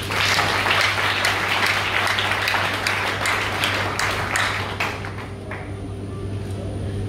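An audience applauds and cheers for a man at a show in a five-star hotel in the capital, dense steady clapping that fades near the end, with a constant low hum underneath.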